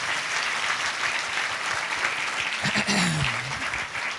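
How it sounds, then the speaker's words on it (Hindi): A church congregation at a Sunday communion service claps loudly and continuously, a dense sustained wash of applause filling the room, with a short vocal shout near the end. "ताली बजाएंगे जोर से"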